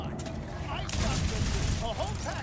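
An SMG fires in rapid, continuous bursts in the video game Borderlands 4, a dense rattling barrage with a voice talking over it.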